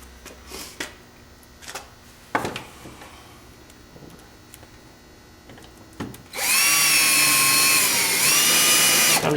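A power drill drives screws to mount a light kit on an EZGO TXT golf cart, starting after scattered handling clicks and knocks and then whining loud and steady for a few seconds with a slight pitch dip.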